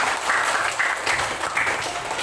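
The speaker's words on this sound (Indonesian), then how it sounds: "Tepuk tangan semuanya." A class of Indonesian schoolchildren applauds during a lesson, a brief burst of dense clapping that swells in uneven waves and stays fairly close.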